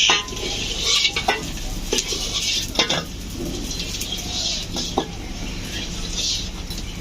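Dried fish (shutki) and eggplant fry in a pan, a steady close sizzle running throughout with repeated scraping and stirring strokes of a utensil against the metal.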